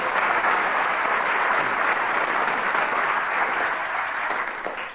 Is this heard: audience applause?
yes